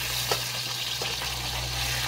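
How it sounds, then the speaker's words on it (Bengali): Fish frying in a pan gives a steady, moderate crackling sizzle that runs unbroken throughout, with a faint clink or two near the start and no talking. "মাছ ভাজা হচ্ছে আমার।"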